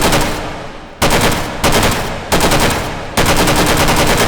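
StG 44 rifle in the H3VR video game firing on full auto, four loud, dense bursts of rapid shots in quick succession, close and dominating, with no talk.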